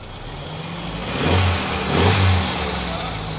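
A 2003 Nissan Terrano Spirit engine with a new radiator idles, then revs up twice in quick succession, each rev rising and falling back to a rumbling idle.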